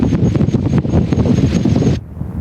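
Strong wind buffets the microphone at an airfield, a loud, close, rumbling roar of gusts that drops suddenly near the end.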